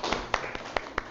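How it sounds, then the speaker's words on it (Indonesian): A classroom of students claps for a group in a mathematics lesson, a handful of distinct, sharp claps spaced irregularly, close and fairly loud. "Beri tepuk tangan untuk kelompok 3."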